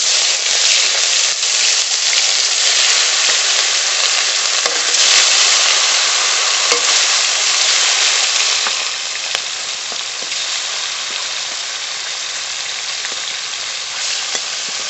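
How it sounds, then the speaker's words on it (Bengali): Pieces of katla fish fry in hot oil in a pan with a loud, dense sizzle up close. It eases slightly partway through and carries on steadily with no talking. "মাছগুলো ভেজে নেব।"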